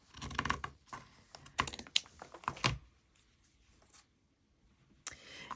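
Paper is trimmed for a junk journal in a few close, quick bursts of crisp cutting and rustling, with short quiet gaps between them and a final snip at the end.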